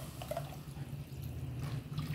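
About 1.25 litres of water poured into a pot for egg curry, a continuous, moderately quiet splashing stream without pauses, with no one speaking.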